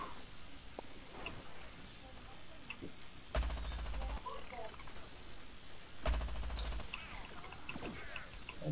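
Gunfire in the video game Plants vs. Zombies Garden Warfare 2: two loud bursts of rapid, rattling shots stand out over quieter game noise and faint ticking.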